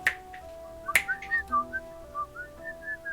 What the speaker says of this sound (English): Not when I'm whistling it slightly out of tune.